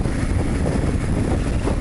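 Strong wind roars and buffets continuously, a dense rumbling rush with no voices.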